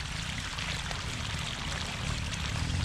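Water gushing from a sump pump outlet and pouring into a drainage ditch during a French drain install, a steady loud splashing flow that runs without a break.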